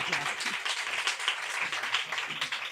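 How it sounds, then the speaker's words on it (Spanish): Audience applause closing a library conversation session on legal issues in research, a brief, fairly faint patter of clapping from a small group, even and sustained. "mis compañeras merecen un fuerte aplauso."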